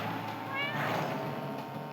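A cat meows with a couple of short rising calls, faint and moderately near over steady background noise during a snowy-tyre kart race.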